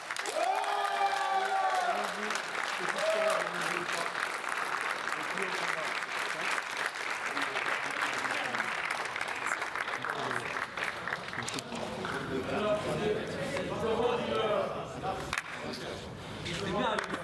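Sustained audience applause fills a combat-sports venue after a fighter wins a qualifying bout for the final, dense and steady throughout with crowd murmur and a voice speaking over it near the end.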